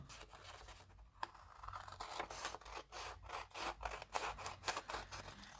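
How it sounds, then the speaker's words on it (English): Scissors trim paper for handmade junk journal notebook inserts, a run of close, quiet snipping and rustling cuts repeating at an uneven rhythm with no talking. "I'll just trim that out."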